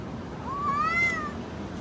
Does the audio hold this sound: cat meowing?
yes